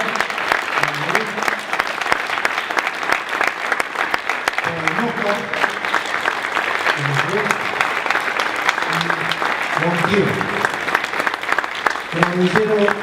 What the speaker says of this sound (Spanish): ahora voy a pedir un aplauso para todos los presentes